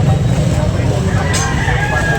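At a busy morning fowl market in Carbon, Cebu, a rooster crows among clucking birds amid constant loud crowd and traffic noise, with people talking nearby.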